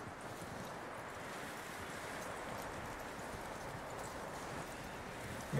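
Faint, steady hoofbeats of a horse clip-clop at a walk in the Red Dead Redemption 2 video game, soft and fairly distant against a light windy background.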